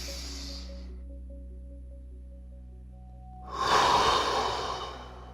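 A single slow, deep breath taken during a calming breath-work exercise: a soft, close airy inhale or hiss that swells near the end and fades, heard over a quiet steady background hum.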